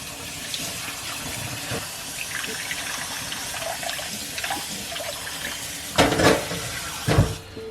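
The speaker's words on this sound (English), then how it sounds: "it lets the water run through without the rice falling through" Water runs from a faucet through a fine-mesh chinois strainer holding rice being washed, a steady soft trickle with a few louder splashing gushes near the end.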